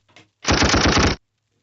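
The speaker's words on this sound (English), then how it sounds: "Yeah, the gunshots." A burst of rapid gunfire sound effects, a dense rattling volley of shots lasting under a second, loud and alone after a faint click.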